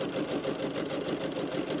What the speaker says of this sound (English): Now what I'm going to do is just sew down those sides.